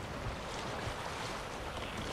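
Sailing boat gliding across open water in The Witcher 3, with a steady wash of wind and waves rushing past the hull at an even, continuous level, no voices present.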